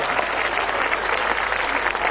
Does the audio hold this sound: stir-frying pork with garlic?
no